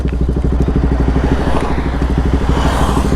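Motorcycle engines idle close by in a steady, loud, throbbing rumble as bikes are lined up on a long group ride from Madurai to Valparai.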